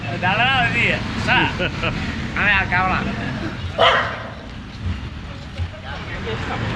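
Street dogs in Kandy, Sri Lanka bark and yip in short bursts nearby, with a passing car and a person talking over them.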